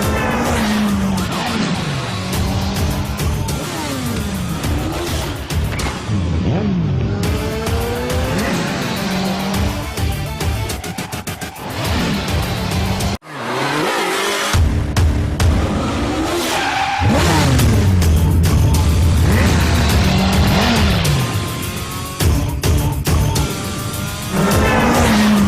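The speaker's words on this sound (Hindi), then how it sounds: "तो ये है इंडिया की फर्स्ट स्पोर्ट्स क्रूजर जिसका नाम है अखिला प्रो 650 सीसी और अब वक्त है इसके छोटे से ड्राइव का।" Akhila Pro 650cc sports cruiser motorcycle out on a ride, a loud, continuous engine drone with rising and falling surges and a brief dropout midway.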